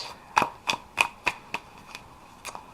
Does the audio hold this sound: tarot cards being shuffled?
yes